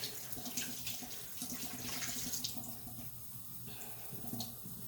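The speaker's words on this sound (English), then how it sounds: "Just going to wash my hands again. Get rid of the lather." Running tap water pours into a sink as soap lather is rinsed off hands, a steady close splashing stream with shifting spatter, unbroken for several seconds and with no voices.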